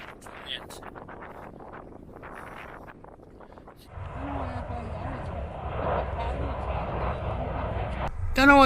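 A steady propeller-plane drone comes in partway through and holds as it passes overhead on the Pennine Way trail, with people talking and footsteps and wind in the foreground.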